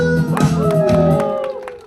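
A crowd at an outdoor pumba performance on a windy beach stage gives a short burst of applause and cheering that fades out within about two seconds, with a voice heard over it.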